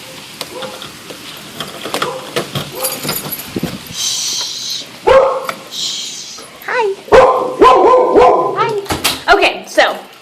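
Several pet dogs bark, yip and whimper excitedly as their owner steps in from a cold, rainy, thundery day; the barks come in bursts close by, mixed with the owner's hushing and greetings.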